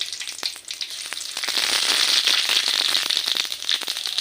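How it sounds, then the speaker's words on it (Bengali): Dry chillies, bay leaves and radhuni dropped into hot oil for a tempering set off a loud, close sizzle that builds into dense crackling and popping and holds steady. "এখন তেলের মধ্যে ফোড়ন দিয়ে দেবে শুকনো লঙ্কা, তেজপাতা আর সামান্য পরিমাণ"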